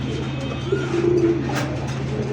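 Pigeons coo steadily at a pigeon farm selling local and foreign breeds, their low, rolling calls overlapping close by for the whole stretch with no talking.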